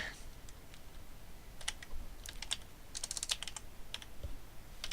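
Script code being typed on a computer keyboard, quiet close clicking keystrokes arriving in short bursts and quick flurries with pauses between, over a faint background hum.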